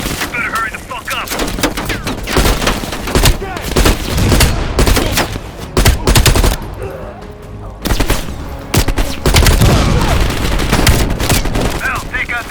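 Heavy machine gun fire in Call of Duty Black Ops Cold War: loud, dense bursts of rapid shots roll on almost without pause, with blasts and battle noise mixed in and voices heard now and then.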